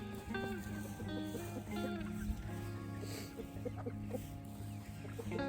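Hens clucking in short, repeated calls among other chicken sounds and a steady low background hum, with some soft peeping throughout.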